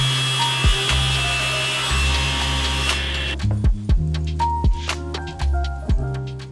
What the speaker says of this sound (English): Using some scrap wood, I cut out 4 pieces that will be used as a guide for the router.